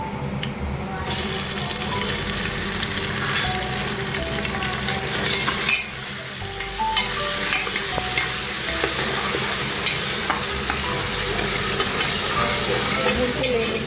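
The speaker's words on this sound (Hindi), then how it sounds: "अभी इसी प्याज में मैं डाल दूँगी अदरक लहसुन का पेस्ट।" Onion frying with ginger garlic paste in a pan for biryani, a continuous loud sizzle with stirring and scraping, briefly interrupted midway before the sizzling resumes.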